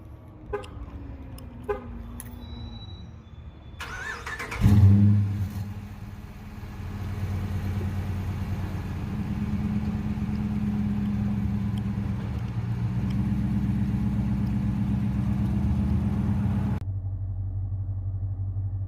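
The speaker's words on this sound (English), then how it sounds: "A little video clip on how it sounds with the stock muffler." A 2016 Dodge Charger R/T HEMI engine with stock muffler exhaust idles with a deep, steady rumble after a brief rev, holding a constant low drone for several seconds before cutting off.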